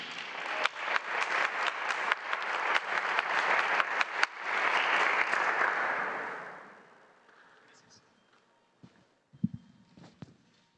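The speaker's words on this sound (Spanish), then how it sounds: "Un muy fuerte aplauso para él." Audience applause for a speaker at a national oratory contest in Tlaxcala, Mexico: a burst of hand clapping and steady crowd clapping that fades after several seconds, then a few scattered, sparse claps near the end.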